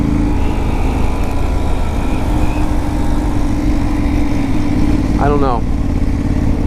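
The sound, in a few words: clutchless automatic motorcycle engine riding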